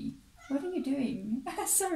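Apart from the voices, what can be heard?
pet cat meowing for attention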